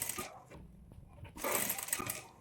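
Sewing machine stitching piping onto a blouse neckline, heard as two short bursts of close mechanical whirring split by a brief pause, fairly quiet and with no voices.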